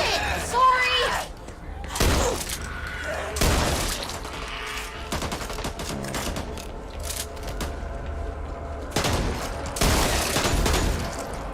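Bursts of friendly gunfire in the video game Back 4 Blood: several loud, sharp volleys spread through the stretch with clattering in between, heard alongside game noise and some talking.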